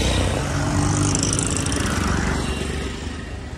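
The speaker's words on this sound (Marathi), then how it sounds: "गाडी तर येतच आहे." A motor vehicle passes on the road, its engine droning loud and close at first, then fading slightly as it moves away.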